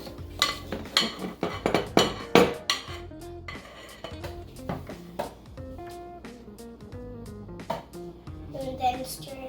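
Sugar cookie dough is stirred in a mixing bowl with a utensil, producing a run of close, busy clinks and scrapes that settle into softer stirring while a voice talks over it.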